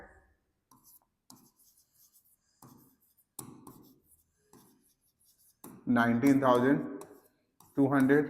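A pen or pencil scratches out figures by hand in short, sparse strokes, close and faint, with spoken voice coming in near the end.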